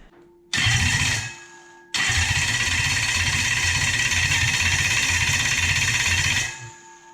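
A Toyota 1UZ-FE V8 fitted in a Massey Ferguson tractor cranks briefly, stops, then fires and runs with a steady loud idle for several seconds before shutting off, with no talking.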